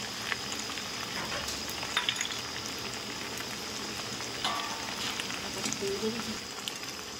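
Pasta with vegetables cooking in a pan just after tomato sauce goes in, a soft steady bubbling sizzle with faint stirring clicks, quiet and continuous throughout.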